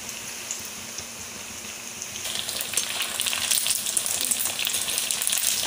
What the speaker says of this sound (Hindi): बस उस तब तक हमें इसको अच्छे से फ्राई करना है और ये थोड़ा क्रिस्पी हो जाएंगे